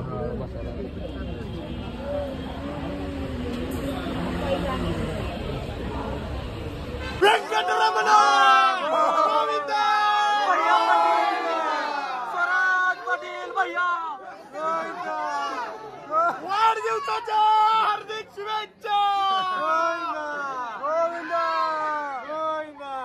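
A large crowd waits in a long queue at Tirumala Balaji temple. A low rumbling murmur is followed by a lively babble of overlapping voices, some calling out nearby.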